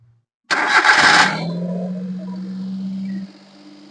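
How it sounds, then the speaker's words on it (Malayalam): A Maruti Alto with an over-racing fault cranks and fires up close by, a loud rough start that settles into a steady high, racing idle for a couple of seconds before dropping away. "ഇനി നമുക്ക് വണ്ടി ഒന്ന് സ്റ്റാർട്ട് ചെയ്ത് നോക്കാം"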